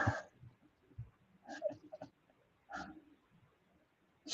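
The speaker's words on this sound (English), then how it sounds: "when he barks like that," A blind dog gives several short, low, breathy barks or huffs at uneven intervals, fairly close and soft against a quiet room.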